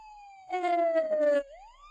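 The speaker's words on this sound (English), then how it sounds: "In the distance they heard a siren." A police siren wails in a fairly quiet setting, one falling tone held for about a second and then sliding back upward, faint and set at a distance.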